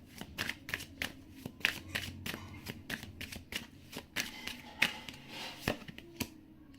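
Tarot cards are shuffled by hand in quick, crisp bursts of riffling taps and flicks, close and fairly quiet, with no voices.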